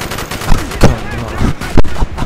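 Gunfire in a Call of Duty Black Ops firefight at a crash site, with loud, close bursts and single shots cracking repeatedly over a busy game soundscape.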